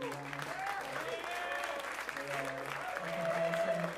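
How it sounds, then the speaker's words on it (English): Audience at a jazz drums master's recital applauds, a soft continuous clapping that swells near the end while voices carry over it. "another round of applause for them."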